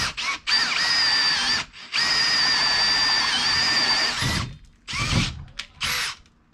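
Close, loud power drill boring a hole, running in two long sustained bursts, then a few short rough spurts as it bores through.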